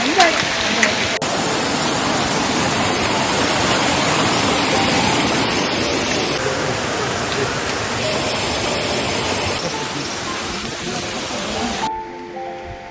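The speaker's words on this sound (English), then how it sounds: "Now we are approaching the next waterfall. So now this is a nice one, big one." A loud, steady roar of a large waterfall on a mountain trek in Kudremukh, Karnataka, a big cascade rushing continuously before fading slightly at the end.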